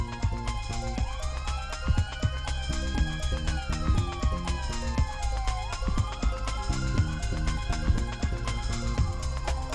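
An emergency vehicle siren wails in rising and falling sweeps, steady and fairly loud, over a busy background with low rumble and scattered knocks at an amateur boxing event.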